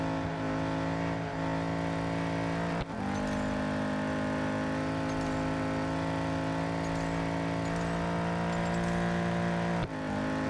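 Racing car engine in Real Racing 3 holding a loud, steady drone with tyre noise, two brief dips and shifts in pitch around a slow sliding turn, no talking.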